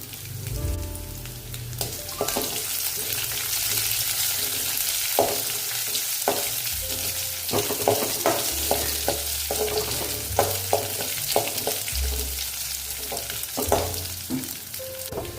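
Steady sizzling of ginger and garlic frying in a pan, with soft scraping and stirring clicks throughout, close and continuous with no talking.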